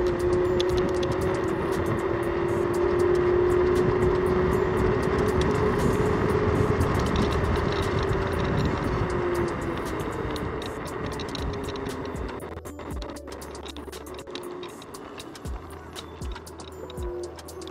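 iENYRID M4 Pro S+ electric scooter running its motor in turbo mode, a steady rising whine over road and wind rumble, close and continuous, easing off toward the end.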